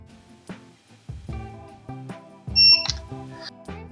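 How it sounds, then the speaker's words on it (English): A TST 507 tire pressure monitor beeping with its set button held down, several short electronic chirps and tones at irregular intervals over a quiet background, close and moderately loud, with no talking. "we are going to press and hold the set button until it beeps"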